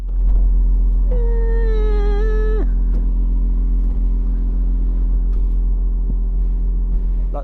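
McLaren Artura sports car running loudly at a standstill, a heavy, steady low rumble that goes on throughout, with a rising whine coming in briefly near the start.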